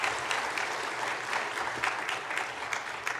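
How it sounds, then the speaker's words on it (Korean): A church congregation applauds warmly for four retiring deaconesses at an ordination service, a dense, steady wash of many hands clapping that holds evenly throughout. "뜨겁게 다시 한 번 더 박수 부탁드리겠습니다"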